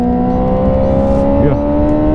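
A modified 2006 Yamaha R6 motorcycle engine runs loud and close at a steady high pitch, with a brief quick rev blip partway through.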